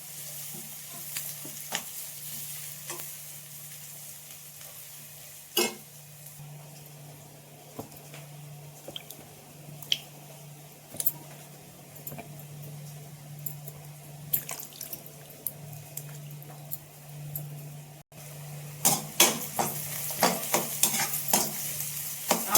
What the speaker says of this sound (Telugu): బాగా ఎర్రగా వేర్చుకోవాలి